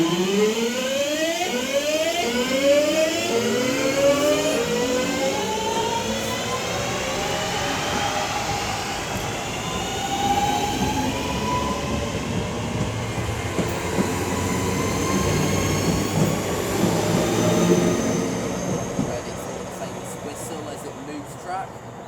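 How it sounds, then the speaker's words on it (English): A West Midlands Railway electric passenger train pulls away from Lichfield Trent Valley station, its motor whine rising in pitch as it accelerates, with rumbling wheels and faint squeals over several seconds. "now getting ready to depart will be the 1809 West Midlands Railway service to Bromsgrove"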